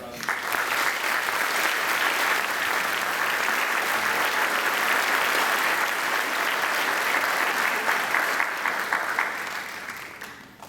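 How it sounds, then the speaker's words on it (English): Sustained applause fills a fire department lieutenant promotion ceremony in Akron, a dense crowd clapping loudly and evenly for about ten seconds before tapering off at the end. "How about a round of applause?"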